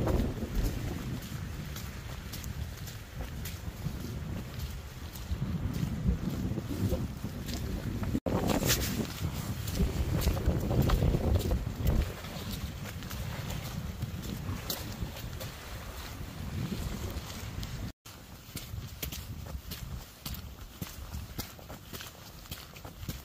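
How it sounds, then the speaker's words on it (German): Wind gusting across the Sorpesee lake at Amecke, a steady rushing buffet that swells louder in the middle and eases off, with no voices over it. "wie der Wind hier am Pfeifen ist oder war"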